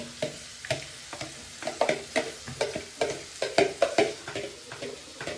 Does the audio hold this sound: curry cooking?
yes